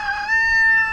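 A rooster crows once, a loud, close, sustained cock-a-doodle call lasting about a second.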